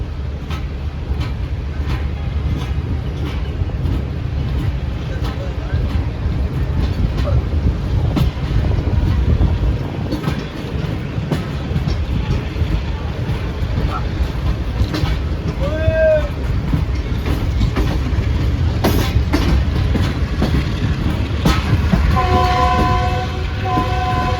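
The Pak Business Express passenger train pulls out of Drigh Road railway station in Karachi, wheels and carriages rumbling loudly and steadily. A short horn blast comes midway, and repeated horn tones sound near the end.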